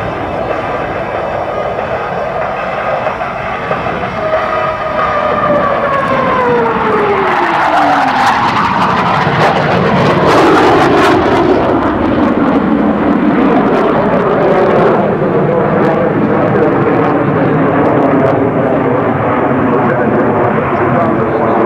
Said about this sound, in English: As the Hornet reaches show center, he's going to pitch up through the vertical, executing a maneuver known as the double immoment.